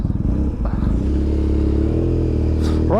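A BMW R1250GS motorcycle on Michelin Anakee Adventure tyres rides along at steady speed, with a continuous rumbling engine drone and broad road and tyre roar filling the sound, loud and close.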